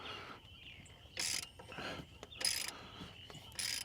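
A ratchet fitted with a 15mm socket works loose an alternator bolt, quiet clicking bursts and short ratcheting strokes in uneven spurts, heard up close with faint mechanical creaks between.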